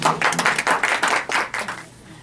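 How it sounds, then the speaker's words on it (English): Brief round of applause from a small studio group on a radio show, a few seconds of hand claps in quick bursts that fade out at the end. "Let's give a round of applause."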